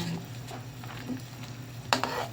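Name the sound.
stirring bangus with black beans in pan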